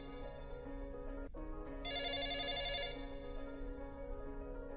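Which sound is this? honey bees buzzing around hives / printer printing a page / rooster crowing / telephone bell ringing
telephone bell ringing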